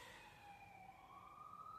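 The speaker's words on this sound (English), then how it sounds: "There's the ambulance." An ambulance siren wails faintly outside, its steady tone sliding slowly in pitch as it passes at a distance.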